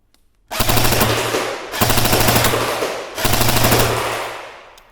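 An Echo1USA AMD-65 Hungarian-style airsoft AK fires three full-auto volleys, each a loud, dense, rapid buzzing burst lasting over a second, with only brief gaps between the bursts.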